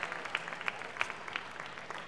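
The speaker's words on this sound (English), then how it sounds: "Let's give it a big round of applause for all the folks that made this possible." Faint, thin applause from an audience at a sock hop night, soft scattered claps with a few sharper hits, heard at a distance.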